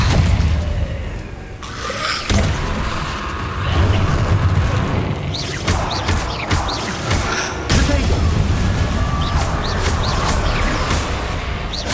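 Incendio fire spells blasting in the video game Hogwarts Legacy, loud booming bursts and crackling crashes in quick succession over dense combat noise, with a voice speaking now and then.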